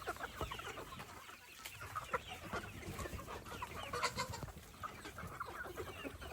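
Chickens on a farm cluck softly and intermittently at a distance, with scattered short calls over quiet background noise.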